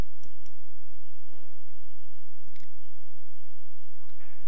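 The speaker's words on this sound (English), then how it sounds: "just type in your password" Light clicks of keys being tapped on a computer keyboard while entering a password in a Ubuntu terminal, scattered irregular taps over a steady background hiss, no talking.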